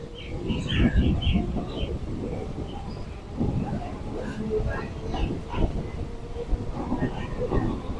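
A Kolkata local train pulls out of Ranaghat junction, its carriage rumbling and rattling from on board while birds chirp nearby and a voice talks faintly in the background.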